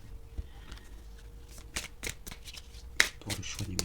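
Tarot cards shuffled and handled up close, soft riffling and sharp flicks as cards are drawn, with quiet rustling between, no clear talk.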